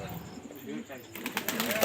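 Kaldom pigeons cooing in low, rolling burbles, close by, with someone talking over them and a burst of rustling or flapping near the end.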